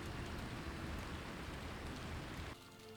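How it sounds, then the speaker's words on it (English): Heavy rain pouring down in a steady, dense hiss that is fairly loud and continuous. It drops noticeably quieter near the end, and no one speaks. "Rain's coming down hard again."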